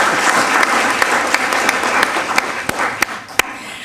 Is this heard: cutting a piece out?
no